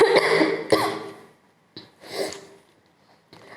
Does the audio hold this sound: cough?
yes